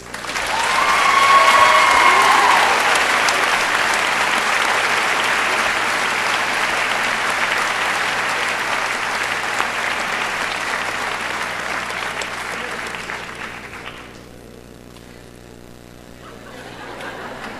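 Loud, full applause from a large high school graduation audience, a dense wash of many hands clapping that holds steady for over ten seconds before thinning out and fading lower.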